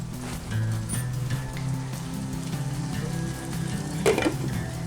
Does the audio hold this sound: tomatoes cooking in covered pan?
yes